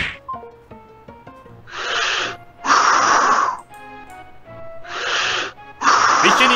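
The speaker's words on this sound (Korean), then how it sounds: "좀 숨 좀 크게 쉬어보시겠어요?" Heavy, deep breathing comes over a phone line: four loud, rasping inhale-exhale breaths in a slow rhythm, close and breathy, with faint tonal sounds between them.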